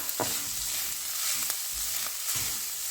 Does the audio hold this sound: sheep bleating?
no